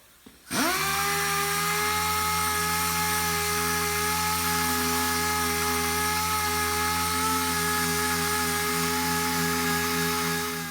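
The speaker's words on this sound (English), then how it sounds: "we're gonna go around this with a palm sander with some 80 grit" A palm sander with 80 grit paper works on the quarter panel of a Chevy Impala being rebuilt. It starts with a jolt, then holds a loud, steady, whining drone to the end.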